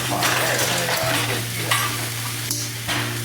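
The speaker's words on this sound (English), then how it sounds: "Trying to get a good searing going on here" Brisket searing in a hot pan, giving a steady, loud sizzle with occasional scraping of tongs or utensils.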